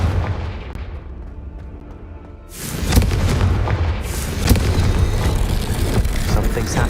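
A Confringo fire spell explodes in Hogwarts Legacy, a deep rumbling boom that bursts in loudly midway and rolls on with crackling blasts after a quieter lead-in.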